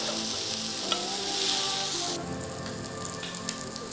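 Surmai fish frying in butter with garlic masala in a pan, a loud continuous close sizzle like rain, with a couple of soft knocks as it is turned.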